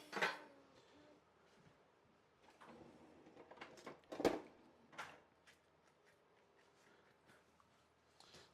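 A metal pan is handled in a home kitchen while cabbage is cooked, giving a few scattered clanks and clatters, the loudest at the start and near the middle, with quieter knocks and shuffles between.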